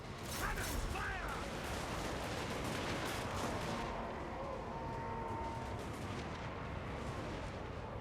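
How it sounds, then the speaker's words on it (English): Cannons firing during a Total War: Warhammer 2 battle, a loud, dense, continuous barrage of booming blasts mixed with rumbling battle noise throughout. "Hellstorm! Cannons fire!"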